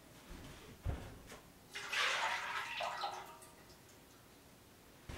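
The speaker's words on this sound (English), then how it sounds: "Dump this into my pot." Liquid is poured into a dye pot for dyeing bulky yarn. A short splashing pour swells and fades, with a few clinks and taps around it, close and fairly quiet.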